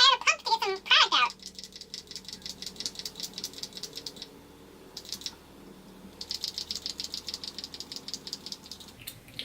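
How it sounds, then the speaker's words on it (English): Repeated dry plastic clicking and rattling from a No 7 Beautifully Matte foundation pump bottle being pumped, a quick burst of clatter followed by steady mechanical ratcheting in bursts, close up and alone. "How many pumps do I have to pump to get some product out?"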